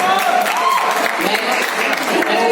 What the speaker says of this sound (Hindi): शुक्ला जी ने इस पर तालियों की कमी नहीं होनी चाहिए